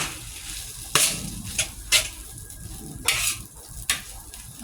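Six eggs broken up and fried in a wok for a rat na-style pad see ew with flat rice noodles, giving a steady hiss of frying with several sharp scraping stirs of a metal spatula, close and loud with no talking.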